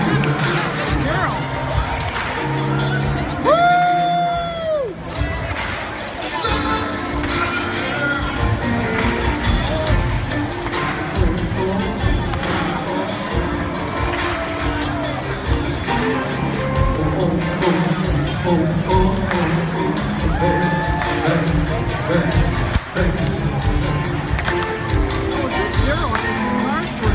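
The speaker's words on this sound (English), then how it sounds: "Look at this crowd." A lively crowd in Washington DC cheers and shouts in bursts over steady chatter and nearby talking, with a few whoops and claps mixed into the noisy outdoor bustle.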